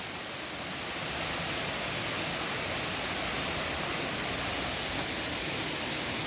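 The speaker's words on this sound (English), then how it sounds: "This is the waterfall itself." Lumsdale waterfall near Matlock roars as a dense, continuous wash of falling water close by, steady and loud from start to finish with no voices.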